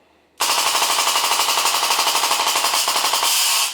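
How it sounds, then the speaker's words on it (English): The air compressor of a fully automatic WW2-style BB gun kicks on abruptly and runs loud and close with rapid, even mechanical pulsing for about three seconds, with nothing else heard. "There goes the compressor, getting some more juice."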